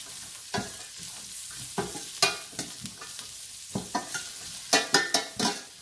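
Spring onion, celery, carrot and beans sautéed in a hot pan for paneer fried rice: a light sizzle broken by several sharp, close spatula scrapes and stirs at irregular intervals.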